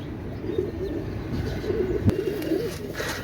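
A royal teddy running pair of pigeons coo softly and continuously against a steady background hum, with one brief sharp knock partway through.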